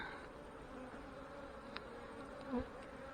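Honey bees buzz softly and continuously around an open hive during a colony inspection, a faint steady insect hum with a few brief closer passes.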